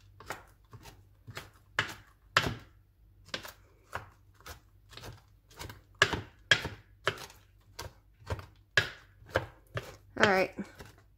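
A knife dicing vegetables on a cutting board for fried rice, with a long run of crisp, evenly spaced chops, close and clear, a few falling in quick doubles.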